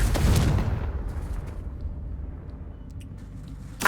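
A Confringo spell explosion in a video game, a heavy booming blast right at the start that fades into a long low rumble, ending with a brief sharp burst.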